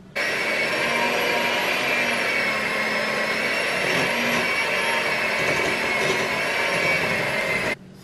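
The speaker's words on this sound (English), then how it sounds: "He used the hand mixer and blended it." An electric hand mixer whipping cookie batter of sugar and molasses, a loud steady motorized whir running continuously close by, then cutting off abruptly at the end.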